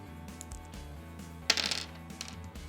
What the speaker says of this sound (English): I've rolled a total of 10 on the 2 dice